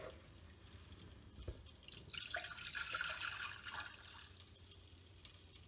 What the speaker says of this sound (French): Et je vais y placer le restant de mon bouillon.